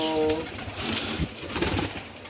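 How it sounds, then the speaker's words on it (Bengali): Pigeons from a home loft of Giribaz, Satin and Lakha breeds give a short, low, close coo near the start, followed by soft rustling and background noise. "আও কবুতর মস্কারি করে"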